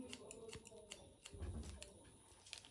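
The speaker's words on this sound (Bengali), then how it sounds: "তো এখানে আবারও পয়েন্ট কাট করে নিচ্ছি" Scissors doing point cutting on a boy's short hair in a step haircut: quick, quiet snips come in a loose irregular run over soft background rustle.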